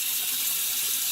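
Hot water runs from a sink tap, a brief, steady, close hiss of flowing water with no voices.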